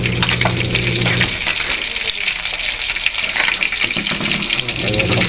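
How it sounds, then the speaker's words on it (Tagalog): Shrimp and tilapia frying in hot oil, a steady dense sizzle and crackle that fills the whole stretch, with faint stirring and a low hum at the start and end. "Pirito po tayo ng hipon, tilapia"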